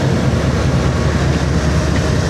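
A goods train hauled by a WDG-4G locomotive with a banker engine pushing from behind grinds up the Shiradi Ghat, a loud, steady rumbling roar with no breaks and no voices.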